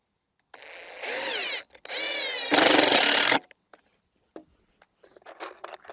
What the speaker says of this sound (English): it should be pretty straightforward to screw this in